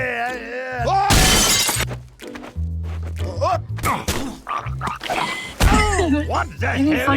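A loud burst of glass shattering, played as a sound effect amid lively talk and laughter, with a second crashing hit a few seconds later.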